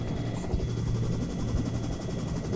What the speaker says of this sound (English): There's a helicopter coming.